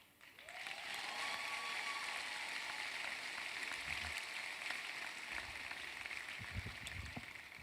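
Sustained applause from a seated audience at a Barbados leadership badge ceremony, a dense steady wash of clapping that rises quickly and holds at an even level throughout, with no voices over it.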